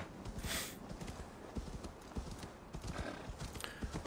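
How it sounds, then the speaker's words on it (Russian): Horse hooves gallop in the video game Assassin's Creed Valhalla, a quick, irregular clip-clop of several steps over a soft ambient bed, faint and moderately close, with no talk. "Вот так вот они скачут здесь на лошадях и без каких-либо проблем"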